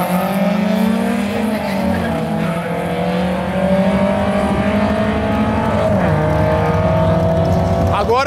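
Naturally aspirated VW Gol cars race around a track, engines droning loud and continuous with rising and falling pitch as they accelerate and shift, a brief tire squeal near the end, with a voice talking over the noise.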